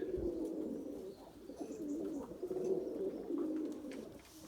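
Pigeons coo softly and repeatedly nearby, a low steady burbling with no other sounds.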